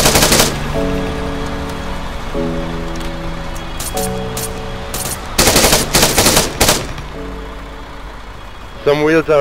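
Automatic gunfire in Arma 3 aimed at a moving vehicle's wheels, loud close bursts over a steady engine drone, with radio-style voices talking in between.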